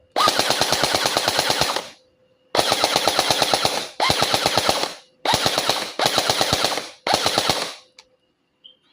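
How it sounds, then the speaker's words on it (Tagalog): A JINGJI SLR V4 gel blaster toy gun fires in single-shot and full-auto modes, heard as five close, loud bursts of rapid, evenly spaced clicking shots separated by short silences. "Test fire. Single shot. Full auto."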